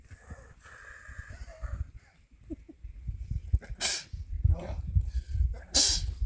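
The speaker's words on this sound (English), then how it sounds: "That's why you walk over so you can sneeze." A single sharp sneeze bursts out near the end, preceded by breathing, shuffling and a snort-like exhale at close range, outdoors while dock fishing at a lake.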